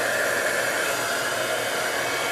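A handheld heat tool blows steadily and close up while drying Island Indigo watercolor ink on a card, a constant loud whooshing hum with no speech.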